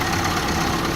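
A 2.2-liter four-cylinder engine in a 1983 Dodge 400 coupe idles steadily, a close, continuous low rumble with an even, smooth tone throughout.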